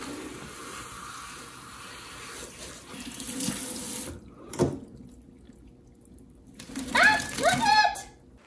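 Water pours steadily from a tap while rinsing a dog, breaking off briefly, then running again while a voice talks over it.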